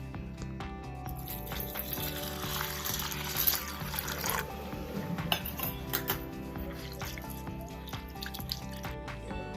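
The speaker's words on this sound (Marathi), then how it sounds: "आता डाळ घेते मी गरम पाण्याने धुवून" Lentils are washed in hot water: gentle sloshing and dripping with light metallic clinks of a bowl, close and fairly quiet, with no talking.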